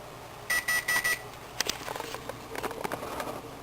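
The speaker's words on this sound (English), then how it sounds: "we're back again as the timer runs out" A kitchen timer goes off while a cheesecake cools, giving four quick bursts of rapid beeping, close and clear. Scattered clatter and small handling noises follow.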